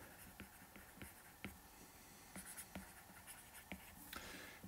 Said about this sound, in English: I now have this full screen where I can write directly onto this.